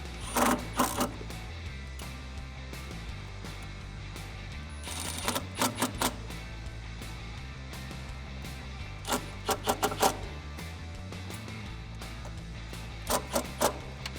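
A ratchet tightens a throttle-body bolt on a 2010-2014 Ford F-150 with the 6.2L engine and a BBK 85mm throttle body, giving short bursts of rapid clicking separated by pauses over a steady low hum.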